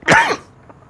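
A single sharp cough, close and fairly loud, bursts out and fades quickly, followed by a faint short sound; no talking.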